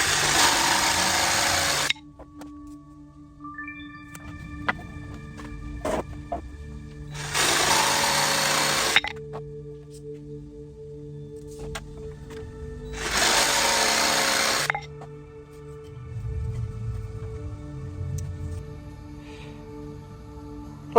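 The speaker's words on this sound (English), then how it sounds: "I have somewhat of a straight hand on cutting with the jigsaw" A jigsaw cuts wood boards for ladder steps, running in three loud sustained bursts with quieter gaps between them.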